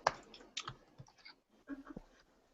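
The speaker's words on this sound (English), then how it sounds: "Okay, so my typing skills" Rapid clicking of keys on a computer keyboard, typed in short irregular bursts with brief pauses, fairly quiet and close, with no voices.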